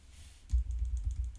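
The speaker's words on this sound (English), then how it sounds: "I'm clicking on E, I'm typing E just to finish the test." Keystrokes on a computer keyboard during a listening experiment setup: a few soft, close taps and clicks in a short quiet burst, with no talking.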